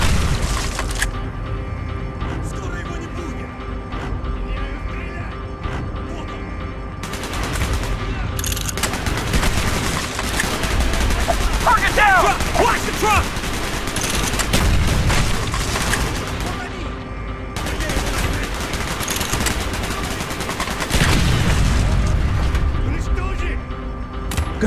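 Sustained game gunfire from Call of Duty Black Ops, with machine-gun bursts, single shots and heavy booming explosions filling the scene, loud and close, while voices shout over the combat.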